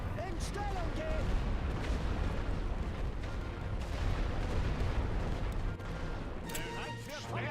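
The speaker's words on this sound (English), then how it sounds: "Oh god, look at all that artillery they've got." WWI artillery barrage in The Great War: Western Front: continuous rumbling booms and scattered gunfire, with game voices heard over the bombardment.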